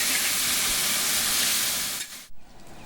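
Vegetables for shukto fry in a pan while being stirred, giving a loud, steady, dense sizzle that drops away abruptly near the end, with no talking.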